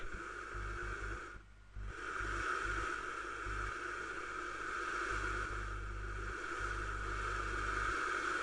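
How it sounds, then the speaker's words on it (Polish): Engines in the video game Happy Wheels drone steadily and quietly for several seconds, a continuous buzzing rumble with one brief dip near the start. "wszystkie silniki się zaczęły odpalać"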